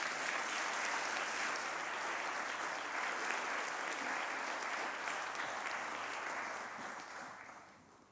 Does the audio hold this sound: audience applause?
yes